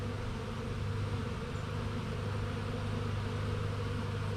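A honeybee swarm gathers at an old hive box with a worn telescoping cover in a yard, making a dense, steady buzzing hum that stays loud and unbroken throughout, with no voices.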